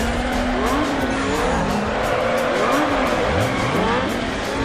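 A Hyundai Tiburon GT races in NFS Underground with a loud, steady engine roar and repeated squealing tire skids sliding up and down in pitch, with no pauses.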